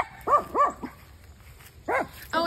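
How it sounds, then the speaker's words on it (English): Dogs bark outdoors a little way off, giving several short yips and barks in two clusters over a low steady background murmur. "Oh, and our doggies over there."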